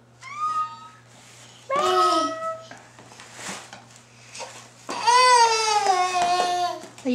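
A 13-month-old toddler imitates a cat with three bursts of high, wavering meow-like cries, close and fairly loud, separated by short pauses and a faint hum.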